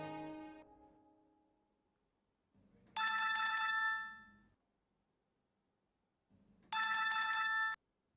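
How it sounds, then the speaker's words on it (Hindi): A telephone ringtone for an incoming call plays in a Hindi-Urdu TV drama scene, two loud bright ringing bursts separated by pauses, with a fading tone at the start and no speech. "Hamza, oh my God, I can't believe तुमने मुझे आज फोन किया।"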